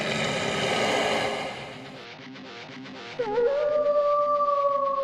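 Wolves howl in a long, drawn-out cry that starts full and noisy, dips, then rises into a sustained, wavering tone, loud and close.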